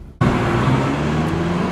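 A Ferrari sports car engine sounds with a loud, steady broadband roar starting abruptly after a brief quiet moment, with road and traffic-like noise blended in.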